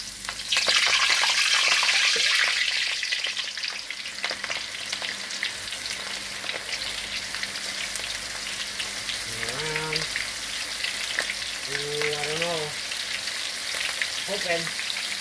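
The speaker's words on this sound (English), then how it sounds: "And then, little trick. Slide them off into the oil." Potato funnel cakes slide into hot oil and fry with a steady, dense sizzle that runs the whole time, loudest at the start, while a few brief tonal clinks or voice-like chirps rise over it in the second half.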